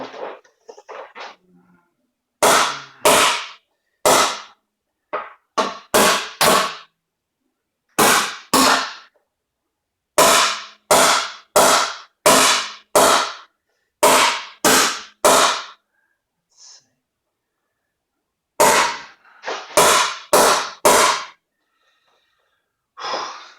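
Sharp metallic clangs ring out in irregular bursts of hammer blows on a Vespa scooter's sheet-metal body panel during dent removal, several quick strikes per burst, loud and close, with silent gaps between.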